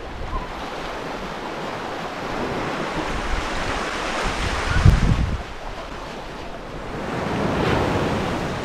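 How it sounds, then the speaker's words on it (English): Gulf of Mexico surf at Caspersen Beach in Venice, Florida, washes steadily onto the shore in a continuous roar, with a slightly heavier surge midway and wind buffeting the microphone. "it's always nice to start your day out on the beach, waking up with the waves"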